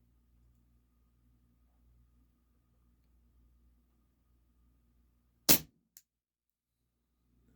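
A CZ Shadow 2 airsoft pistol firing a round through a chronograph: one sharp, loud crack after near silence, followed by a faint short tick.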